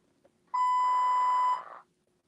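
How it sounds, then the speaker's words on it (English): A tablet hooked up to a machine gives out one loud, sustained electronic beep of about a second, pure-toned and close, in an otherwise quiet room. "Oh, this is annoying. This is annoying. This beeping."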